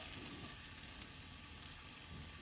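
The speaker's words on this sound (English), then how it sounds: "I'm gonna add my garlic. It's gonna sizzle." Garlic sizzles steadily in a hot pan for Korean glass noodles, a continuous close crackling hiss with no talking.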